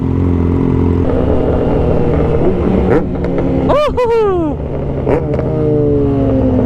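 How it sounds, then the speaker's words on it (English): A loud sport motorcycle roars along a highway in a fast group ride, its engine droning steadily close to the microphone with rising and falling revs midway and wind rush throughout. "His bike is so loud every time."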